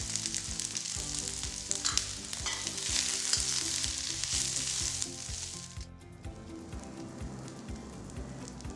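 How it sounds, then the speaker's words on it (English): Chopped preserved mustard greens and garlic sizzle and crackle in a hot pan as they are stir-fried toward dryness. The bright, steady frying noise is close and uninterrupted, with occasional scraping stirs and no talking. "Now, add in the Mei Chai and fry it till it's almost dry."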